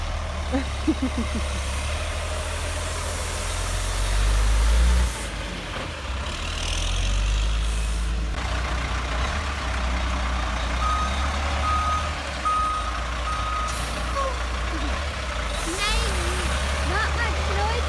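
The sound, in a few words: truck maneuvering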